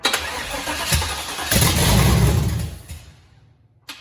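A new crate motor in an air-bagged 1972 Chevy Suburban cranks and briefly catches, rising into a rough roar before dying away into quiet, with a short click at the end.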